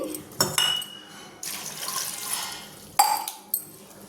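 Water splashes and pours into a metal pressure cooker in uneven bursts, with clinks and knocks of the vessel between pours, close and moderately loud.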